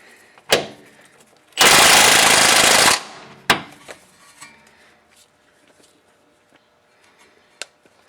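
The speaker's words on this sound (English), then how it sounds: "I think I might cheat and use an impact" An impact wrench loosens a sway bar bushing bolt on a Toyota Corolla, firing one loud, sustained rattling burst of about a second and a half, framed by sharp metallic knocks and clanks from the tools.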